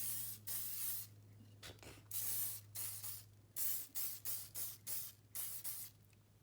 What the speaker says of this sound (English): I'm gonna use this cheap hairspray I got from dollar store